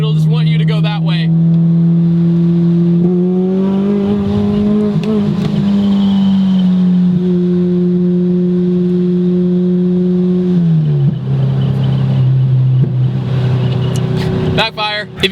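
A supercharged Honda Civic Si FA5 engine revs hard through VTEC, a loud, close, sustained buzzing drone climbing and holding in pitch, dipping briefly between pulls, with a sharp burst near the end.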